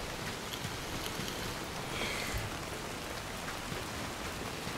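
Rain in the survival game Soulmask, a steady, even hiss of falling drops, soft and constant throughout with no voices.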